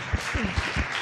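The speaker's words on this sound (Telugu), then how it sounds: "ఈ మాట నమ్ముచున్న వాళ్ళు గట్టిగా చప్పట్లు కొట్టండి." A church congregation claps loudly during a sermon: a quick run of sharp, evenly spaced claps in a large hall, with no one speaking over them.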